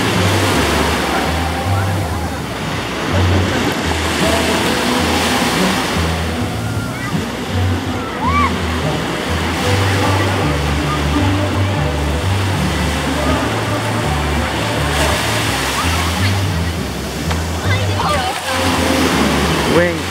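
Big ocean waves and surf roar at Waikiki beach in the evening, a loud, constant wash of breaking water that swells and recedes throughout.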